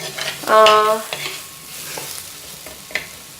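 Tomato masala sizzles and is stirred in a pan, loud and close at first with a scraping stir, then a steady frying hiss that settles underneath, with no voices.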